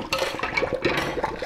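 Rinse water poured out of a Dream Tree water pitcher, a short splashing, gurgling stream of liquid with uneven bursts, close and fairly loud.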